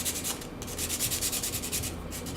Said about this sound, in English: It's my sandpaper for my super old pastels